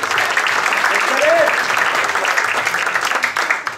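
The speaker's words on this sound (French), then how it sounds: "Et on peut applaudir Michel, l'auteur" Audience clapping at a gala awards dinner, a dense steady burst of applause, loud and close, with a brief voice rising over it midway and a faint low rhythmic thump underneath.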